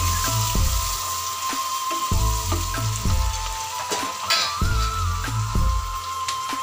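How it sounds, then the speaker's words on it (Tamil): Small onions sautéing in a pan for chicken biryani, cooked until browning, giving a steady soft sizzle with repeated low knocks and stirring thumps throughout, no voices. "சின்ன வெங்காயத்தை நல்லா கொஞ்சம் வதங்கட்டும்"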